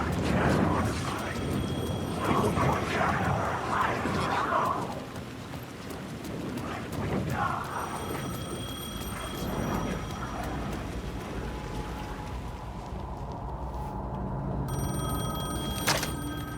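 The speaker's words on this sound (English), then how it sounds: "The phone was ringing again." A telephone rings in the video game Alan Wake 2, a bright repeated electronic ring near the end, set against a dark backdrop of steady rain, rumbling thunder and low ambient noise.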